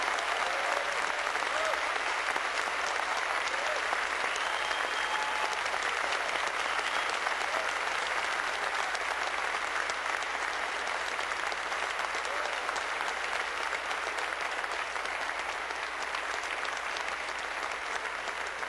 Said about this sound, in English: please join me in a big round of applause for all of our mentors, team leaders, and volunteers